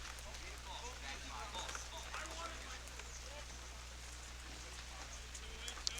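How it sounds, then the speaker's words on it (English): Intermittent rain falls during a baseball game as a faint, steady patter and hiss beneath a low hum. A voice is also present. "rain showers is now upon us"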